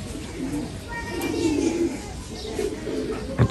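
A racing pigeon just trapped after a 350 km race coos softly in low, repeated murmurs, with faint voices in the background and a brief knock near the end.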